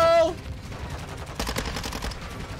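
A first-person shooter game's gunfire crackles as a quick burst of automatic shots about midway through, following a brief tonal cue, close and moderately loud with no speech over it.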